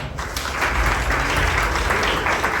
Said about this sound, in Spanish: Por favor, recibamos con un fuerte aplauso a José Antonio Medina Mora.